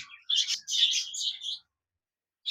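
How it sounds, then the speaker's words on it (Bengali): Several budgerigars, including lutino birds of various colours, chirp in cages in a bird market: a short burst of bright, rapid tweets over about a second, then silence. "এখানে অনেকগুলি বাজরিগার পাখি রয়েছে বিভিন্ন কালারের"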